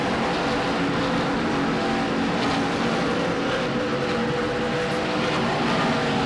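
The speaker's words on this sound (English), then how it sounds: "those cars are so loud going by" Continuous loud roar of NASCAR race cars thundering past at Watkins Glen, a dense wall of engine noise with no pauses, heard from close to the track.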